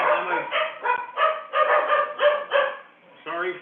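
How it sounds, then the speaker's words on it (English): A dog barks in a rapid, near series of bursts, clustered in groups, heard over what sounds like an online meeting, with a short pause before a final burst. "Sorry for my dog."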